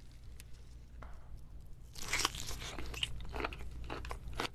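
The head of a large raw tiger shrimp twisted off up close, giving a sharp crunching, cracking snap after quiet, then smaller crackles and tearing.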